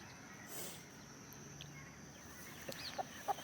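Chickens and roosters give soft, distant clucks over a quiet outdoor background, with a few sharper clucks near the end.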